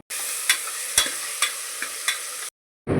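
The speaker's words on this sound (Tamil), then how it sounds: "இஞ்சி பூண்டு பேஸ்ட்டு அது கூட சேர்த்து நல்லா கிளறி விடுங்க லைட்டாக வதங்கட்டும்" Ginger-garlic paste stirred into half-sautéed onion and tomato for a mutton bone soup, with a steady broadband sizzle and sharp spoon scrapes roughly every half second, ending abruptly in silence before a brief burst returns.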